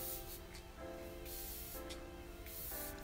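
A watermelon-scented ultra-fine facial mist bottle sprays in several short hissing bursts, close and soft, with small pauses between pumps.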